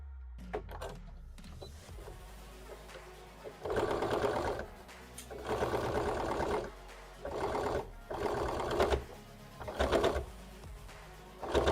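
A sewing machine stitches a hat in rapid bursts, starting and stopping several times with quiet pauses between runs. The nearby motor whirs and needle clatter are loud and clear, with no talking.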